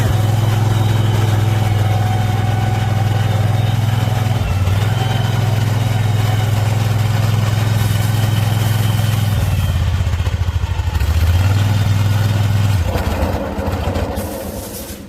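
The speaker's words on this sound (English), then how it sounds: "I didn't have enough throttle into the engine when I fired it up though" A 2002 Dixon ZTR5017 twin zero-turn mower engine idles loud and close at low throttle, a steady throbbing drone with an uneven rhythm, dipping briefly twice before fading at the end.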